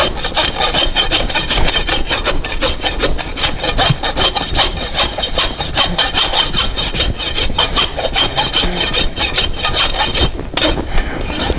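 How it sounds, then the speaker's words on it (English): A farrier's rasp files the horseshoe clinches off a horse's hoof in quick, repeated rough strokes, close and continuous without pause. "just rasp the clinch off itself"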